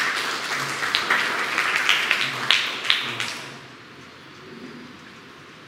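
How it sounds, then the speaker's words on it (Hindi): A church congregation at a Sunday evening Hindi service claps together for a few seconds, a dense spattering applause that stops abruptly and leaves quiet room tone. "क्यों ना इस संदेश के लिए ताली बजाते जोरदार।"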